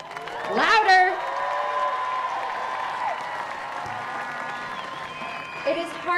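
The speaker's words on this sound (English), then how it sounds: "now let's hear some big applause from the KHS graduating class of 2023" Graduating high school class of 2023 applauding at an outdoor evening ceremony, a broad steady wash of clapping with cheers, whistles and shouts rising early, then settling into sustained applause.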